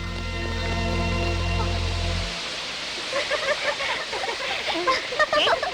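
Steady broadband rush of a waterfall, loud at first, then thinning into scattered splashing and rustling with faint voices.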